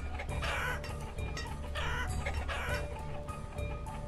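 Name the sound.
chickens clucking in video game Banished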